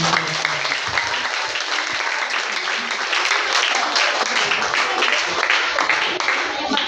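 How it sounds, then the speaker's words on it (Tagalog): A congregation claps together at a church gathering, a steady, fairly loud wash of applause lasting the whole stretch, with faint voices mixed in beneath it. "Palakpak muna tayo sa Diyos."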